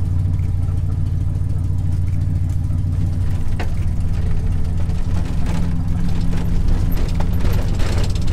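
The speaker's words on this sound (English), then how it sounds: "truck's been a little cold starting lately. I think the carburetor needs a little adjusting." A truck engine with a carburetor in need of adjusting, recently hard to start when cold, idles steadily at close range with a low, constant rumble and no talking.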